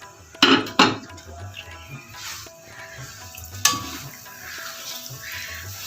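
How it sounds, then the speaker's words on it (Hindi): Semolina is tipped into hot ghee in a pan, giving sharp pouring bursts followed by a soft, continuous sizzle with scattered crackles, heard close up. "घी हमारा गर्म हो चुका है तो अब इसमें हम डालने जा रहे हैं सूजी"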